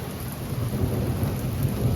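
A severe thunderstorm with strong winds rumbles low and steady beneath the constant hiss of heavy rain, with no voices.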